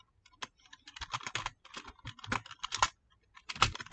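Quick, irregular clicks of typing on a computer keyboard, close and crisp, in short bursts separated by brief pauses.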